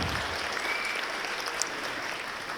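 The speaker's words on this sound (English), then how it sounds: "Oh yeah, big cheer there" Guests at a charity ball cheer and applaud, a dense wash of clapping and crowd noise at moderate distance, steady throughout.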